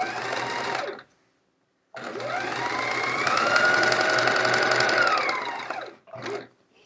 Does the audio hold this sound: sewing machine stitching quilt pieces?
yes